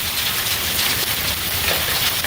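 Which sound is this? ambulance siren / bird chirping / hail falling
hail falling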